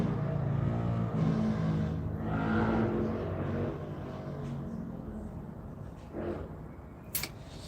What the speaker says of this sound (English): Enjoy the motorbikes.